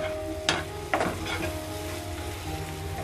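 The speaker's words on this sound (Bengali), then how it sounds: "আমি এটাকে এখন কষিয়ে নিব ভালো করে। ভিউয়ার্স আমার মগজটা একেবারেই ভাজা ভাজা হয়ে গেছে" Beef brain bhuna frying in a pan, a close continuous sizzle broken by a couple of sharp spoon-against-pan stirring knocks, no talk.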